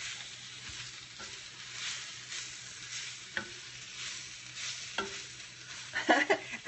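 Swiss chard with olives and a pinch of salt stirred in a hot pan, soft scraping and gentle sizzling with a few sharper clinks and utensil knocks near the end, close and steady with no talking.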